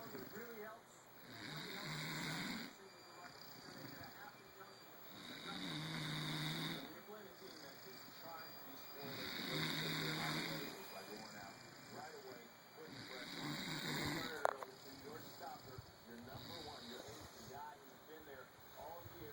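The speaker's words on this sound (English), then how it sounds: "Hey, you snoring?" A woman snores in slow, regular cycles, each long rasping breath swelling and fading roughly every four seconds, close by over a steady low background hum.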